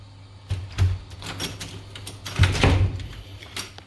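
A house door is pulled open while binding and wedged at the top, giving two scraping, rubbing bursts with a creak, then a lighter knock, close by in a quiet room.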